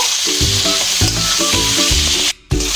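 Spice masala of cumin, chili powder, salt and chopped tomato frying in a pan for a fig and prawn dish, a loud close sizzle with rapid rhythmic scraping stirs and a brief near-silent break toward the end.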